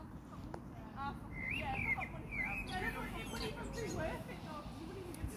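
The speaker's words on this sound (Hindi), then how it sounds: "परिंदों की इतनी प्यारी चहचहाने की आवाज़ आ रही थी" Small birds chirping outdoors on a sunny day, with several short tweets scattered through the clip over a steady background murmur of distant talk and outdoor noise.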